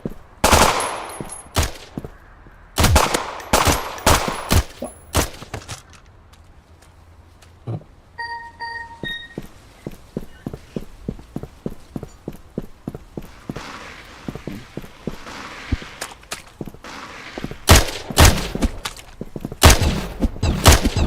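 Video game gunfire in rapid automatic bursts and single shots, loud and punchy, alternating with quieter stretches of footsteps and faint electronic tones.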